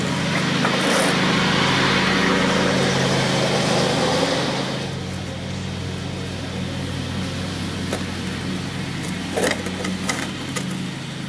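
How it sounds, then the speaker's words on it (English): A lawn mower engine drones steadily nearby, louder at first and then easing back slightly, with a few faint clicks and knocks over it. "Excuse the lawnmower there."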